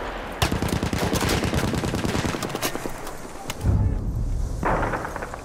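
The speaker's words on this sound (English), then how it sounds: "Throwing grenade, watch it!" Battlefield 1 combat: rapid machine-gun fire rattles loudly for several seconds, then a heavy grenade blast booms, followed by further distant shots.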